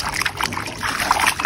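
Rainwater is tipped out of a pigeons' water bowl outdoors in one short, splashy pour, a near trickle and spatter lasting about a second and a half.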